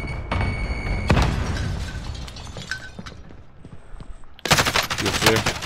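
Explosions and gunfire in a shooter video game, with a grenade thrown into another room, heard as loud close bursts and rattling shots, with a sharp blast near the end.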